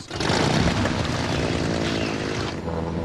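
A propeller airplane drones loudly and steadily for about three seconds, close and continuous, with no voices.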